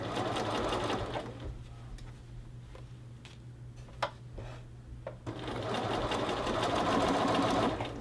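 Close by, a sewing machine bastes a shirt collar to its collar band in two rapid, whirring bursts. Between them comes a quieter pause filled with small clicks and handling taps.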